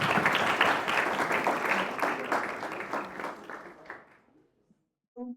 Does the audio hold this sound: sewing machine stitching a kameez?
no